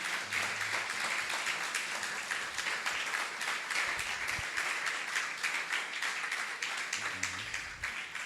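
A church congregation applauds during a Spanish-language sermon, giving a dense, even patter of many hands at moderate volume that holds steady for several seconds with no voices over it.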